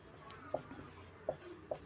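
Pen or chalk writing out a class 10 maths solution, three crisp taps between soft scratchy strokes, close and fairly quiet, with no talk.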